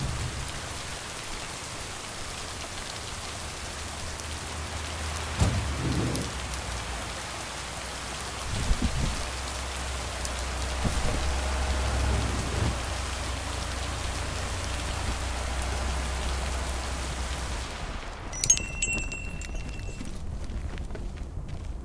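Heavy rain pours in a postal delivery simulator game played on an Xbox Series S: a steady, dense hiss of rainfall runs throughout, with a few soft thumps and a brief high-pitched chime near the end.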